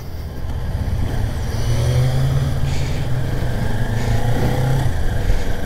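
A Kawasaki Ninja 400 motorcycle rides through city streets. Its engine hums loudly and steadily, with rising revs as it accelerates, heard close up from the bike.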